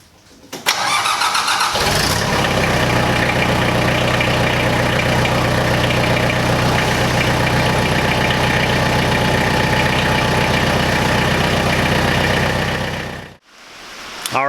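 A Cub Cadet 7360SS tractor engine cranks and fires up, then runs steadily and loudly at a constant idle for about eleven seconds before abruptly shutting off.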